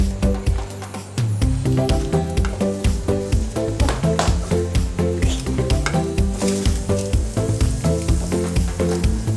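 Shallots sizzle loudly in hot coconut oil for a yucca beef curry, with a dense, constant crackle and repeated clinks and scrapes of a spoon stirring against the pan close by.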